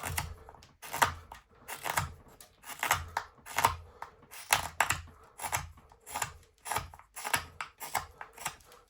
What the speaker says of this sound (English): we're gonna take this and just make a curved cut